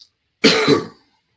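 A single short, throaty cough burst, close and fairly loud, with a brief rough tail and no talking around it.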